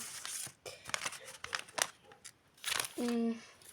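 Plastic crinkling and rustling comes in short bursts, close by, with a voice speaking at moments alongside.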